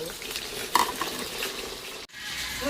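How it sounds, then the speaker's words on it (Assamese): Onions frying in a pan for a home-cooked meat dish, a steady close sizzle with stirring scrapes and a brief clink of utensils, no talking. "পিঁয়াজটো ভাজি আছোঁ"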